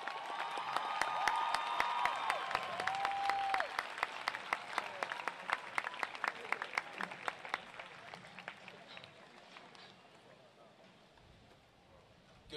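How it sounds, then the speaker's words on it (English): A crowd at a university commencement gives the graduates a round of applause, loud dense clapping with a few whoops early on, thinning to scattered claps before fading out. "Let's give all the graduates another round of applause."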